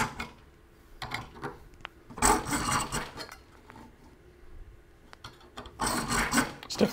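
Hand file rasping on a metal candlestick, apparently polished aluminum rather than brass, in several separate bursts of scraping strokes, close and fairly loud, with quieter gaps between them.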